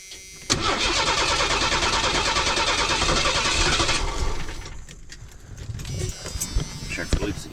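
A $500 auction van's engine cranks repeatedly without catching after a repair, a loud steady starter whir for several seconds, then cutting out to quieter clicks and rattles.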